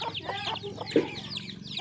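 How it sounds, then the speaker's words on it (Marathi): Several chickens cluck and chirp close by in a busy, overlapping chorus, with one sharper squawk partway through. "कोंबड्याची पिल्ले पाहू शकता"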